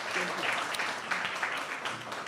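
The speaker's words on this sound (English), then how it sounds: "Let's clap hands for them." A gala dinner audience claps hands for newly elected SRC members, a dense, continuous round of applause that stays steady throughout, with some voices mixed in.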